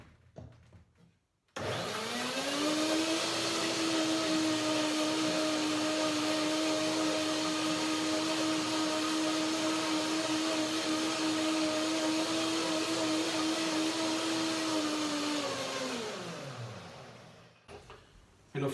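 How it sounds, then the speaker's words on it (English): A blender runs on bananas with a little lemon juice. It gives a loud, steady motor whine for about fifteen seconds, then spins down and stops. "Blender dance."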